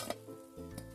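Cabbage manchurian balls fry in hot oil, giving a close, steady sizzle with soft crackles across a brief moment, with no voices.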